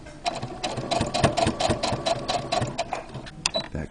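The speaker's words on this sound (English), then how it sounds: "Back stitch over the ridge." A sewing machine back stitches a fabric mask: a steady, close mechanical whir with rapid rhythmic needle ticking running for about four seconds, without talk.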